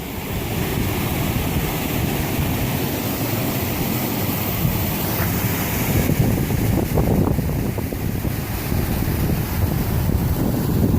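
Water pouring over a small weir at a pumping station beside a walking track: a loud, steady broadband rush with no pauses, roughened by gusts of wind buffeting the microphone.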